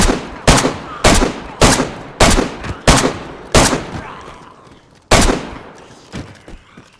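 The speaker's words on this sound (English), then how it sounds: "gotta use the AK" AK rifle fire in a survival video game set on Sakhal, about seven loud, close single shots in a quick, slightly uneven rhythm, each with a short echoing tail. One final shot comes after a brief pause.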